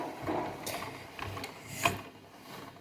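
A pasta machine rolls bachnikha dough through its cutter, giving a steady mechanical whirr with soft clicks and one sharper clack, up close with no talk.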